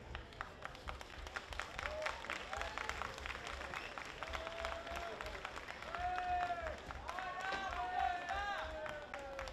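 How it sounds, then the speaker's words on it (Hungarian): An audience claps and cheers a unicycle jumping world record attempt, with steady rapid applause, scattered whistles and shouts rising in the latter half, while people talk over it. "a közönség tapsal és bíztathatja"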